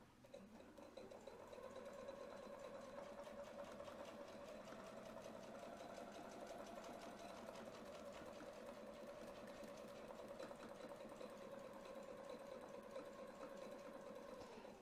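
A domestic sewing machine stitches steadily around a template, giving a continuous, even, rapid whirring hum that stays constant for the whole stretch, fairly faint and alone.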